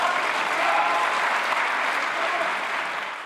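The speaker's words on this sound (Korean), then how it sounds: "여당으로부터의 박수는 이렇게 2번 있었습니다." Ruling-party lawmakers applaud in the Japanese parliament during the prime minister's policy speech, a dense, steady round of clapping that fades slightly at the end.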